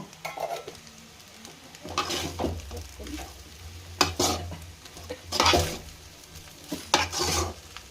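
Vegetable fried rice with green chillies and coriander powder is stirred in a pan. Repeated scraping strokes of a spoon against the metal come in uneven bursts over a soft sizzle, close and clear, with no one talking.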